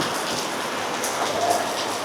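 Rain falling steadily in Sydney, a dense, even hiss of drops on surfaces with no voices, constant and fairly close throughout.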